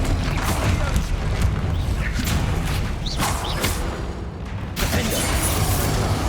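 Bombarda explosion spell in Hogwarts Legacy during a troll fight, a dense, loud barrage of booming blasts and crashing impacts, continuous and close, with a sharp burst near the end.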